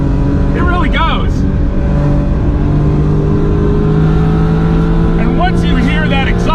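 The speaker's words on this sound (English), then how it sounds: "once you hear that exhaust note, you're gonna forget about all that lack of low-end torque" A 1991 Honda Beat JDM kei car's small high-revving engine (stated redline around 8,500 RPM) drones loudly and steadily through its exhaust from inside the cabin, with someone talking over it at the start and end.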